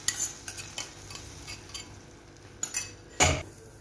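Fried cashews and raisins being stirred into moong dal payasa, a spoon scraping and clinking against the pot in a few short strokes, fairly close and with no voices.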